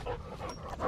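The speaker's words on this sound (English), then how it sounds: "Look at that dog." A dog panting quickly in warm weather at a garden, soft rhythmic breaths close by, with no talking.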